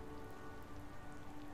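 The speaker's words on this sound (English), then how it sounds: "the rain strengthens and lessens, strengthens and lessens" Steady rain falls over a meadow, a soft, even patter of drops on the ground with no voices and no thunder.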